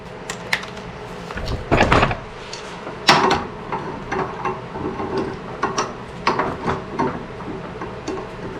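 A gear puller is worked on a blower assist in a welding and fabrication shop, giving a run of close metallic clicks, ratcheting and clanks, with two louder clunks early on and steady smaller taps after.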